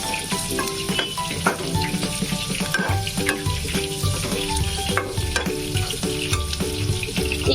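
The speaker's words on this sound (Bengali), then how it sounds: "এবারে দিয়ে দেবো কুচনো পেঁয়াজ, পেঁয়াজটা আমি একটু মোটা মোটা করে কেটেছি।" Coarsely chopped onions fry in a hot pan for a green chicken dish, a steady close sizzle and crackle running the whole time with occasional stirring clatter and no talking.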